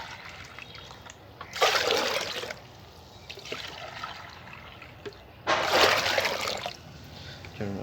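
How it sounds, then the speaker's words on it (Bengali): Water pours in two loud splashing bursts into a container of tea-leaf plant feed, with softer sloshing and trickling as it is mixed in between them, close and with no talking. "তো চলুন আমরা সম পরিমাণ জল আরও মিশিয়ে নিই"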